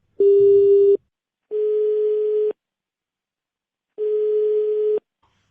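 Telephone call tone on a line: three loud, steady one-second beeps separated by silent gaps, clear and alone.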